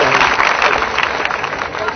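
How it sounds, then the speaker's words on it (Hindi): Audience applause welcoming a poet onto the stage at a Hindi poetry recital, a dense, steady wash of clapping that continues for the full two seconds with no voices over it. "आप जोरदार तालियों से समर्थन करके बुलाइए"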